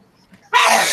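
A single sudden sneeze, loud and close, bursting out after a faint quiet moment and trailing into a breathy hiss.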